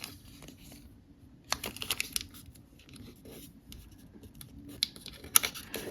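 Origami paper folded by hand, soft crisp creases and rustles in short bursts with a couple of sharper snaps, close and alone in a quiet room.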